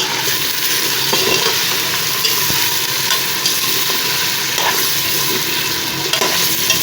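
Tomatoes fry with garlic and ginger in a pot, giving a steady, close sizzle with faint stirring scrapes throughout and no voices.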